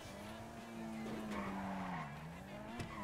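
Car in Grand Theft Auto V driving with a steady engine drone while its tires skid and squeal, loud and continuous throughout with no talking.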